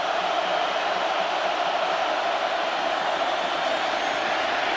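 Stadium crowd noise from the video game NCAA 2006 football during Michigan at Ohio State, a dense, steady roar of many voices held at constant loudness, with no distinct words.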